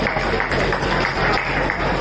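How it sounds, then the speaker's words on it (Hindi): Loud, dense clapping from a poetry gathering's audience, a continuous roar of many hands close and strong across the whole stretch. "जोरदार तालियां एक बार बजा सकते हैं।"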